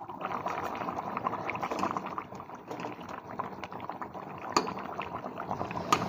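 A covered pot of potato curry simmers on a stove, giving a steady bubbling burble with occasional louder pops and lid clinks, moderately close and without talk.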